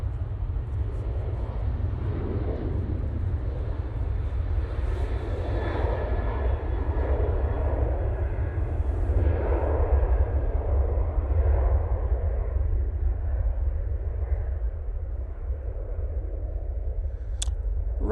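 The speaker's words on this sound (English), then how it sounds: "Ryanair 737 on the roll." A Ryanair Boeing 737 jet rolls down the runway for takeoff at Manchester Airport, a deep, sustained engine roar heard from a distance that swells slightly and holds steady for the whole stretch.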